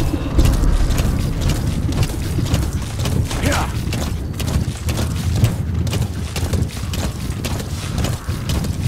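Hooves of D-Horse, the horse companion in Metal Gear Solid V, clop in a steady rhythmic gait, moderately loud, under a dense bed of game ambience and music.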